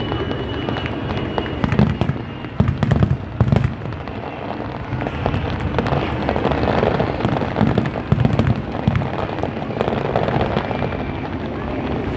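Fireworks at a pyromusical competition by the seaside at Mall of Asia, Philippines, bang and crackle in dense bursts over a steady rumbling roar, with a few faint voices in the crowd noise.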